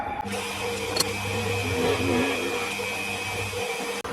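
A small mini fly cutter spins at roughly 900 RPM in a metalworking setup, giving a steady, close machine drone with a sharp tick near the start and a brief drop near the end.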